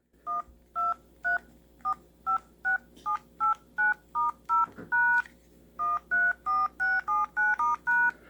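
Steady series of beeps from a vintage Radio Shack tone dialer, around twenty short dual-pitch tones pressed one after another with brief gaps, close and clear over faint background hiss.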